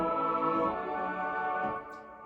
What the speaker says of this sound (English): if you play it without, it sounds like this.